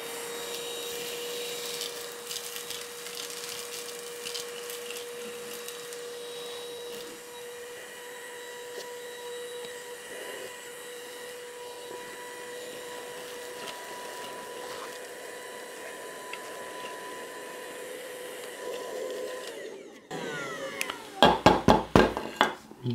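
A FERM cordless shop vacuum runs with a steady whining motor hum, then near the end rattles and clatters loudly as it sucks up small aluminium and metal chips.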